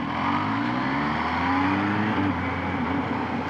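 A Kawasaki Z H2 motorcycle on an interstate runs with a steady, loud engine drone and a gradually rising pitch as it accelerates, heard from the rider's position with wind noise around it.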